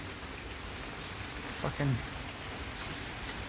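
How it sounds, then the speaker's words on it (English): A steady wash of rain falls throughout, a constant close hiss, briefly interrupted by a short spoken word midway. "Yeah, it just won't stop raining."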